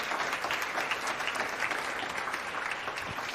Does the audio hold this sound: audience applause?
yes